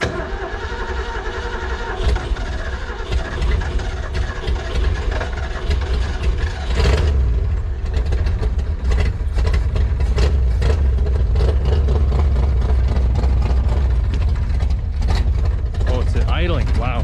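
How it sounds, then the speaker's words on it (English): A classic Ford Bronco's 302 V8 idles right after its first start, a loud, steady rumble close by with people talking over it. "Oh, it's idling."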